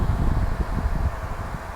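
On speed three, a compact Meier ME 720 air cooler's blower fan gives off a strong, constant airy roar with a low fluttering rumble, heard close and alone for under two seconds.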